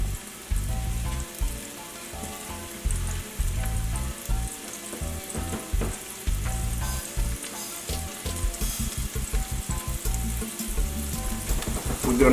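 A pot of Haitian black rice with djon djon mushrooms bubbles and sizzles steadily up close, with a soft crackling hiss and occasional light knocks, no voices.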